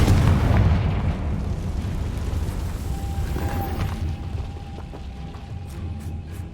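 A loud, booming magical blast from the Confringo fire spell in the Hogwarts Legacy video game, with a heavy rumbling burst at the start that decays into a sustained roar and fizzing tail.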